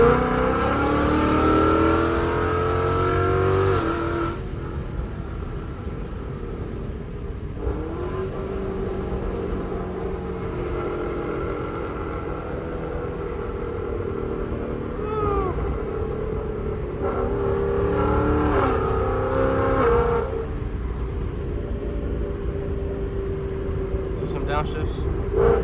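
A straight-piped 5.0 car engine revs and downshifts on a late-night drive, heard from inside as a loud, rough exhaust roar with rising and falling pitch and sharp throttle blips, while someone talks over it.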